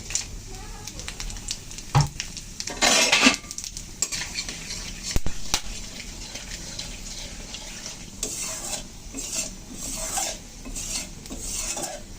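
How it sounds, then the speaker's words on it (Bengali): Whole spices go into hot oil together: bay leaf, cumin, dried chilli, cinnamon, cloves, cardamom and black pepper. A loud sizzle and crackle follows, with utensils scraping and stirring in the pan up close. "এখন ফোড়নে দিয়ে দিচ্ছি। আমি এখানে নিয়েছি তেজপাতা, জিরা, শুকনো লঙ্কা, দারচিনি, লবঙ্গ, এলাচ আর গোলমরিচ একসাথে দিয়ে দিচ্ছি।"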